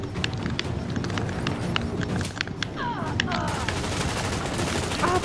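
Gunfire from a firefight in The Division, a third-person shooter, with an unseen sniper shooting at the player. Sharp shots crack repeatedly throughout amid busy game noise, with people talking over it.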